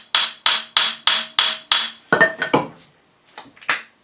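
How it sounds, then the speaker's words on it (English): Six evenly spaced gentle hammer taps ring out close by as a CV joint boot is fitted on an Astra Mk1 Kadett D, followed by a few lighter, irregular metallic knocks. "A few gentle taps."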